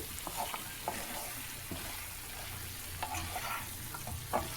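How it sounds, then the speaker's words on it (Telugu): Mutton pieces frying in a pan for a simple, lightly spiced mutton fry, a steady soft sizzle broken by occasional scraping stirs and small clinks, fairly quiet and close with no talking. "ముక్కలు చెదరకుండా వేయించుకోండి."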